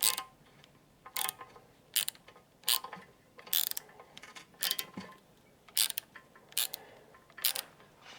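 A socket wrench on an extension ratchets against a bolt nut during an LS V8 rear main seal job on a hot rod, giving a series of sharp, close clicking bursts at irregular intervals with quiet gaps between.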